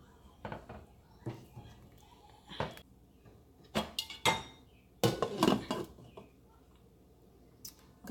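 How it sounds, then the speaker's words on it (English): A spoon scrapes and knocks against a pot of Ghanaian corn porridge being stirred, giving irregular clinks and scrapes at close range, with a denser burst of clatter midway and quiet pauses between strokes. "you need to keep on stirring to prevent it from burning"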